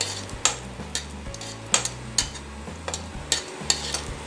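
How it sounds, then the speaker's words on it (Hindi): Cashews fry in refined oil in a kadai for veg fried rice, a soft sizzle under a regular train of sharp clicks and taps from stirring. "कढ़ाई में लिया है मैंने रिफाइंड ऑयल, और अब इसी ऑयल में मैं डाल दूंगी काजू।"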